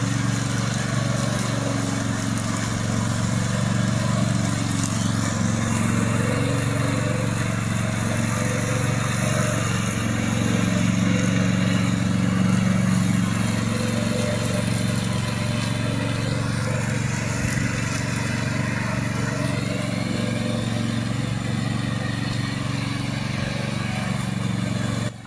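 A remote control brush mower runs steadily outdoors, its engine droning loud and constant for the whole stretch with a buzzing, high-revving tone and no talk.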